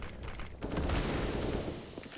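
AK rifle fire in CS:GO during a professional esports match, Heroic vs NiP: a dense, sustained volley of rapid shots that keeps going for about two seconds with almost no gaps.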